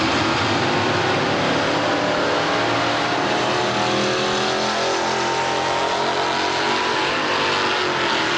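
A silver Chevrolet drag racing at about 100 mph at a 1993 drag strip: a loud, steady engine roar with sweeping harmonics that holds for several seconds, with no voices.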